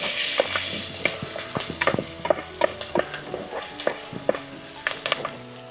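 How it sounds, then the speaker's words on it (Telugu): Chopped onion and green chillies fry in hot oil for a village-style okra and dry prawn curry: a steady sizzle broken by sharp, irregular clacks of a spoon against the pan, close and fairly loud. "పచ్చిమిరకాయ ముక్కలు వేసుకుందాం."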